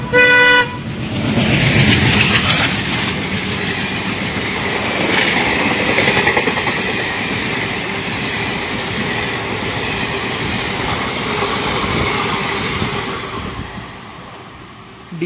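The Jamalpur Express passing at speed on Eastern Railway tracks at night, opening with a loud horn blast, then a sustained roar of wheels and carriages rushing by close for the whole stretch.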